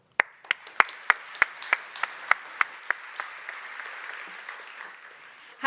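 An audience at the IJCAI-ECAI 2018 conference claps to welcome speaker Nicole Immorlica: a sparse round of sharp individual claps that grows into a thin, steady patter and then fades, heard alone with no talking.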